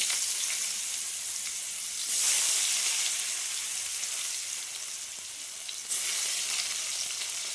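Onion frying in hot oil in a pan, giving a loud, dense, unbroken sizzling hiss that surges briefly twice, with no voices over it.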